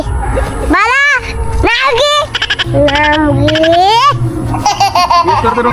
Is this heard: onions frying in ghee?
no